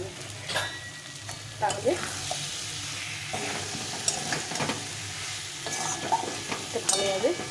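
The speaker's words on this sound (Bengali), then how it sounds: "এটাকে একটু ভালো করে কষিয়ে নিতে হবে" Spices for a taro (gathi kochu) dish sautéed in a pan, with continual spatula stirring and scraping over a steady sizzle and a few brief spoken words.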